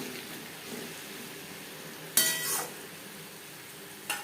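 Water splashes into a pan of spiced papaya curry, giving a sudden loud hiss and sizzle that fades over half a second, followed later by a second shorter burst against quiet kitchen background.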